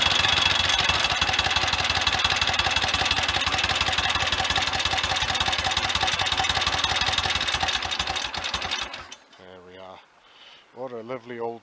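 Royal Enfield 1000 cc Model K motorcycle engine running loud and close with a rapid, steady mechanical clatter, then cutting off abruptly, followed by brief speech.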